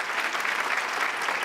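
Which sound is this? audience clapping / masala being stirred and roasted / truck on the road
audience clapping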